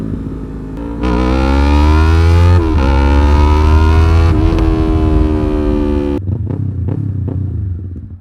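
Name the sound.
modified Yamaha R3 motorcycle engine revving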